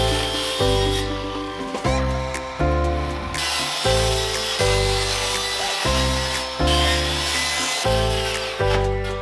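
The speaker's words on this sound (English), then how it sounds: "just kind of use the edge of my saw as a guide and cut this out." A handsaw cuts through the bottom of a plastic tank to free a tray section, loud rhythmic rasping strokes repeating steadily close up, with no talking.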